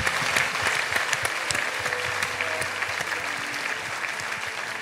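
A church congregation claps and cheers in praise of the Lord, steady dense applause filling the room throughout, sharp individual claps standing out over a broad crowd wash that slowly eases.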